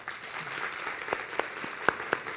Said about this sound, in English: Let's give another big round of applause for Mr.